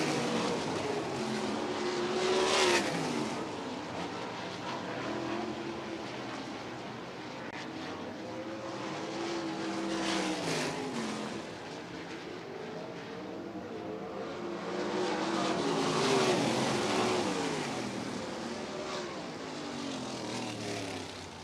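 USAC sprint cars circling a dirt speedway during hot laps, engines rising and falling in long sweeping passes as the cars come near and fade away, a continuous loud roar with no talk.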